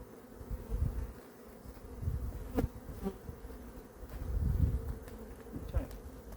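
Honey bees buzz around an open hive during a mid-October colony inspection, a dense, steady hum of many insects close by, swelling and fading as bees pass near, with occasional soft handling bumps and no speech.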